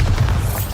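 A brief, low Bombarda spell blast in a Hogwarts video game, a dull boom that thuds and fades in under a second.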